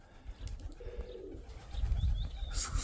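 Mykolaiv pigeons coo softly with low, rolling calls amid rustling and outdoor background noise, followed by a brighter burst at the end.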